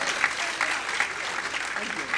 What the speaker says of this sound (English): I think some people want to clap.